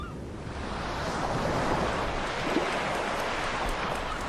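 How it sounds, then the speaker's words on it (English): Surf and gusting wind along the rugged coastline of southern England, a steady broadband roar of breaking waves with wind buffeting the microphone throughout, no voices. "Here, wind and wave eat away at the rock"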